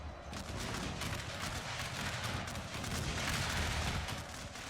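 Heavy artillery bombardment in a Great Britain strategy war game, a dense, continuous rumble of distant booms and crackling gunfire with no pauses.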